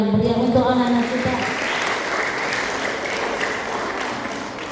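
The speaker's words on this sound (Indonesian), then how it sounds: "Kita beri tepuk tangan yang meriah untuk anak-anak kita." An audience claps warmly for a children's performance at a Quranic school graduation ceremony, a dense, steady burst of applause that holds at an even level before slowly thinning.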